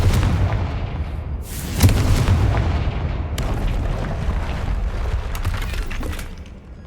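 Bombarda and Confringo spell explosions in Hogwarts Legacy, two heavy booming blasts with crumbling, shattering debris and a rumbling tail, loud and close, with no talking over them.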